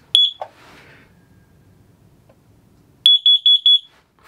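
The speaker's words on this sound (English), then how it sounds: "the carbon monoxide gets to a dangerous level, this thing will go off" A carbon monoxide detector in an off-grid tiny cabin is tested: one sharp high beep with a short chirp, a pause, then four rapid loud beeps in a row, close and alone.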